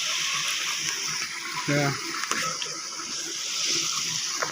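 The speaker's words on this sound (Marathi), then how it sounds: "आपण इथून पाणी येतो शेडमातलं हा पाईप आहे त्या पाईपचं पाणी" Steady rushing of river water pouring from a pipe, a constant broad hiss throughout, with a brief faint voice partway through.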